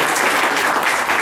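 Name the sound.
audience applause at chess championship ceremony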